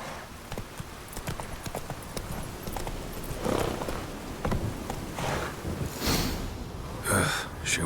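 Hoofbeats of a horse walking in The Witcher 3, steady clip-clop footfalls with occasional snorts and breathy gasps, close and moderately loud over a low ambient bed.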